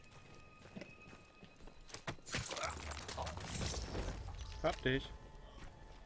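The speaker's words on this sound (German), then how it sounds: "Gut, wir haben hier ein Pferd." A horse's hooves clip-clop in Battlefield 1, a run of quick hoof strikes over a game soundscape while a player speaks briefly.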